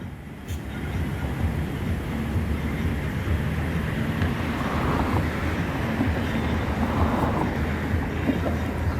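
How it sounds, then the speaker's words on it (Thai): A train rumbles past the Ranong 1 Road railroad crossing toward Bang Sue after rain, a steady low mechanical roar close by that holds level for the whole passage. "ตอนนี้ก็มีรถไฟผ่านมาอีกหนึ่งขบวนนะ เป็นฝั่ง มุ่งหน้าไปทางบางซื่อนะครับผม"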